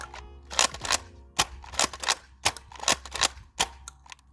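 Nerf Elite 2.0 Flipshot Flip 16 blaster firing double shots, sharp loud paired pops repeating in quick bursts, close up with no talking.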